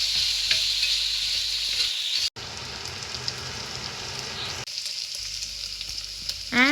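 Ginger garlic paste fries in a pan while being stirred, a bright continuous sizzle broken by a brief hush in the middle, then sizzling again with quick spoon scrapes at the end; no voices.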